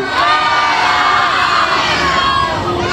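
A loud, dense crowd roars and shouts continuously at the 2020 Wanneroo Show, with high whoops and cheering voices layered together.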